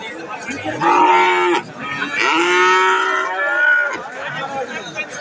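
A Holstein Friesian heifer at a cattle market gives two long, loud, close moos, the second drawn out, with faint crowd chatter and voices around them.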